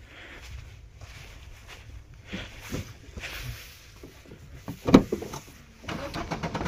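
People climbing into a car at night with doors and shuffling, then an engine cranking and starting; quiet, uneven thumps and rustles with a sharper knock partway through and the motor catching toward the end.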